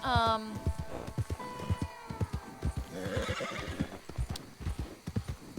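A horse whinnies loudly at the start in the video game Red Dead Redemption 2, followed by steady hoof clip-clops and a person talking over the footsteps.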